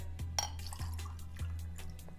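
Hot water trickles and drips over tea leaves as they are rinsed, with soft splashes and faint clinks of glassware, quiet and close.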